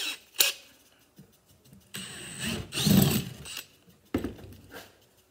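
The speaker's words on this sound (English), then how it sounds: "and let's drill those out" Short bursts of a power drill with an 11/32 bit whirring into material, separated by pauses and clunky handling noises, close by.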